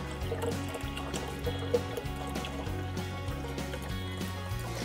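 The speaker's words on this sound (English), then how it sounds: "I just put my water in here just to pour it easier." Water poured from a container into a jar while making kombucha, a soft continuous trickle heard up close and fairly quiet, with no talking over it.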